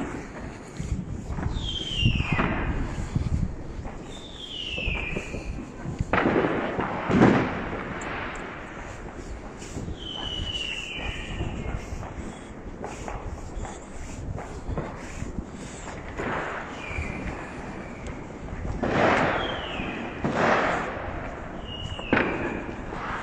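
New Year's Eve fireworks over Vienna, a long stretch of repeated distant bangs and crackling bursts with whistling rockets rising between them, irregular and overlapping, heard from a window or street with no talking.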